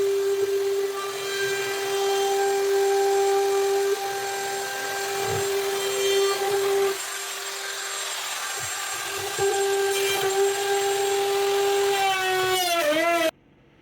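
A router fitted with a mortising bit cuts into a wooden cabinet bottom, a loud steady high whine with bursts of cutting noise partway through. The motor pitch sags abruptly at the end before the sound cuts off.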